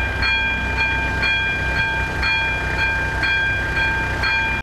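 A train runs past beside a railway crossing next to a new station in Frenštát, its steady loud rumble carrying rhythmic wheel clicks at regular intervals, close and continuous throughout.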